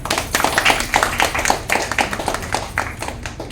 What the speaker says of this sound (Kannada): ಅವರಿಗೆ ಒಂದು ಜೋರಾದ ಚಪ್ಪಾಳೆ